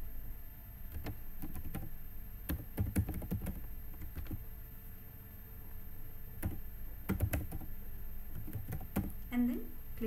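Quiet, close keyboard typing in scattered bursts of rapid clicks with short pauses, as a mailbox name and email address are entered, over a low steady background hum.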